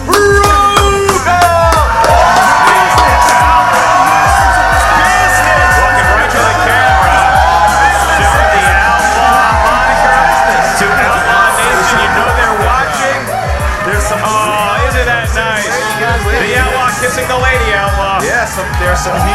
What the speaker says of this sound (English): There's some heels in the crowd booing him. Got some people booing